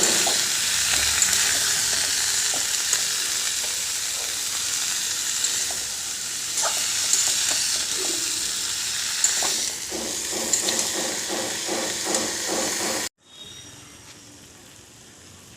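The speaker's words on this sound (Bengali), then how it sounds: "সিদ্ধ করা আলুটাও ঢেলে দিলাম। নাড়তে থাকবো।" Boiled potatoes and figs frying in a pan for a fig curry, a loud hissing sizzle with repeated scraping stirs that quicken toward the end, then a sudden drop to near quiet.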